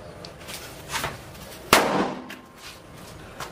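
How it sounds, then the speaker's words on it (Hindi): A homemade mirchi bomb firecracker goes off during a Diwali cracker test: one sharp, loud bang midway that rings briefly, with smaller pops and crackles before and after it. "इसी तरह ही हमारा ये सारे मिर्ची बम काम कर रहा है, एकदम धमाकेदार"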